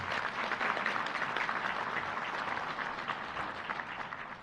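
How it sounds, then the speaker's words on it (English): Sustained audience applause at a sports hall of fame banquet, a steady even wash of clapping from a large room, moderately distant. "Let's give Greg another round of applause"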